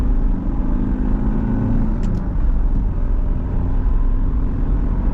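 A manual car with 100,000 km on it drives along with a steady, loud engine drone and road rumble, with no voices heard.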